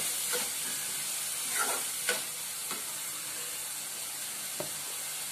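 Egg curry masala fries steadily in oil with a continuous soft sizzle, broken by several scraping strokes of a spoon stirring the pan.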